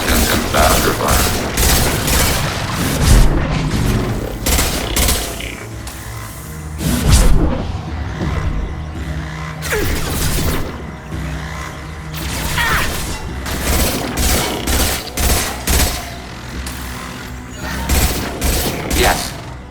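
Sci-fi gunfire in a Mass Effect 2 firefight: repeated bursts of shots and heavy booms, dense and loud throughout, with voices calling out over the shooting.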